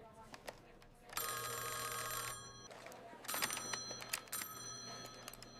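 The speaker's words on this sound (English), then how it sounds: "Let us call him on the phone." An old-style telephone bell rings in bursts, a bright metallic trill repeated two or three times at moderate distance, with soft clattering and background sounds between the rings.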